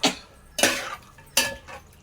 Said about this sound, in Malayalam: ഇതിനകത്തൊന്ന് നന്നായിട്ടൊന്ന് മിക്സ് ചെയ്ത് കൊടുക്കുകയാണ്